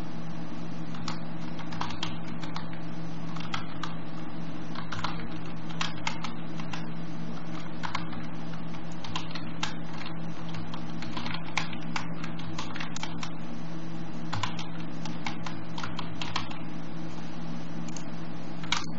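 Steady, rapid clicking of a computer keyboard as a Git command is typed on an Ubuntu 18.04 machine, over a constant low electrical hum; no voices.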